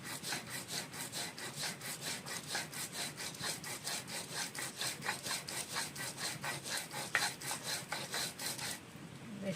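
Poppy seeds being ground on a grinding stone make a steady rhythmic rasp, strokes repeating about three times a second, close and fairly quiet, stopping just before the end.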